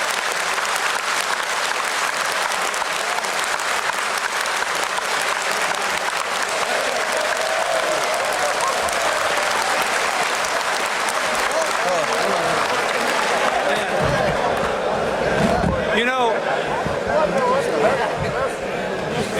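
Audience applause for President Bill Clinton's address to the Nigerian legislature, dense sustained clapping that fills the hall, with a loud standing crowd and some voices mixed in, growing more ragged toward the end.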